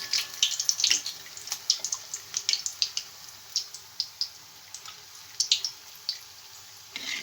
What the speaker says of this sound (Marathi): आता आपण हा ब्रेड पकोडा आपल्या तेलात टाकूया.